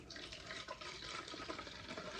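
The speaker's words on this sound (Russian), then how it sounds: "Вот, наливаю в пульверизатор" Honey-sweetened water is poured into a spray bottle for orchids, a soft steady trickling fill heard close and quiet without any talking.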